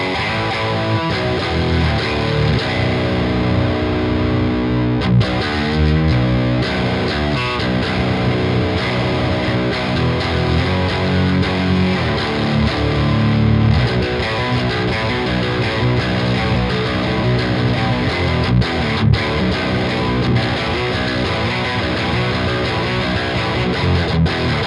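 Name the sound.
electric guitar through op amp distortion VST, stoner sludge tone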